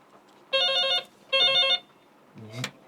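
A telephone rings for an incoming call with two even electronic bursts, clear and fairly close, followed by a short voice.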